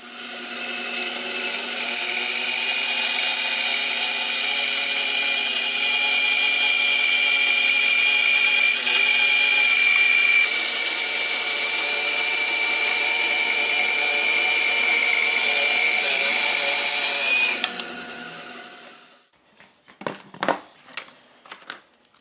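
A power planer whines loudly and steadily while planing wood strips for a steam-bent coach body frame, a sustained high-pitched tool drone that cuts off abruptly near the end, followed by a few short knocks and clatters.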